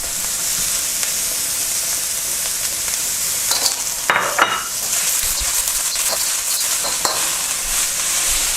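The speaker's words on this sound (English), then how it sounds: "And start stirring again." Vegetables and tofu stir-fried in a pan for a Chinese vegetarian dish: a steady close sizzle of frying runs throughout, with a few brief scraping stirs of the utensil against the pan.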